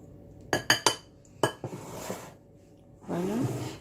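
A utensil clinks sharply against a bowl several times while muffin batter with vanilla is mixed, followed by a scraping stir and a softer swirling sweep near the end.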